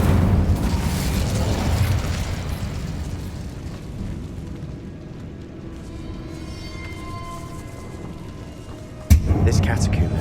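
Fiery spell burst in Hogwarts Legacy, cast in a decayed catacomb: a loud rumbling roar of flame and crackle fades over several seconds, then a sharp bang flares near the end over a low droning game ambience.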